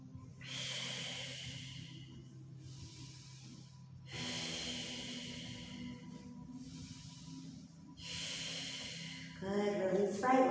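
Slow, deep exercise breaths during a yoga-Pilates stretch: three long airy inhale-exhale cycles, close and clear, with a sharper rustling breath at the very end.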